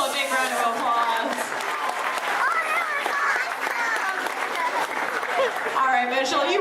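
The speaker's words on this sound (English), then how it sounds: "Everybody give Mitchell a big round of applause." A theme park show audience applauds a volunteer actor, continuous crowd clapping with cheering voices mixed in throughout.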